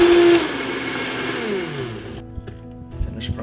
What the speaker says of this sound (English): Put it on the Vitamix.